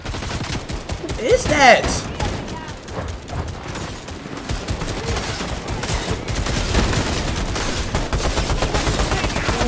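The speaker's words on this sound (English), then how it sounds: "who the fuck is that shooting at me?" Rapid bursts of video game gunfire aimed at the player crackle in dense volleys for the whole span, with excited talk over the shooting.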